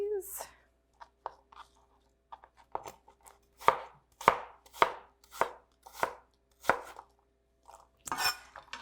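Apples being cut with a knife on a board: about ten sharp, distinct chops in an uneven rhythm, close and clear against a quiet background, with a brief voice near the start.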